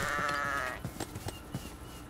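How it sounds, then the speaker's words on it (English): A white sheep in Minecraft gives a single near, wavering bleat lasting under a second, followed by soft scattered footstep-like thuds. "Oh, here's another white sheep."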